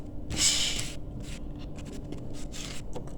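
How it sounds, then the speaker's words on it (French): Tarot cards are spread out across a table for a reading, a short sliding swish followed by light scattered rustles and taps, close and soft, with no speech. "Je vais étaler les cartes pour pouvoir procéder au tirage."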